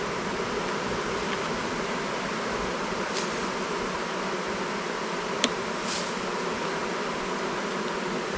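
A honeybee hive hums with a steady, dense buzz of many bees at a nearby entrance board, continuous and even, with a brief click partway through and no talking.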